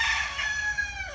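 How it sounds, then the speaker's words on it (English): A rooster crows in a long, drawn-out call at moderate distance, with steady low background hum and no talking. "oh my goodness, that rooster."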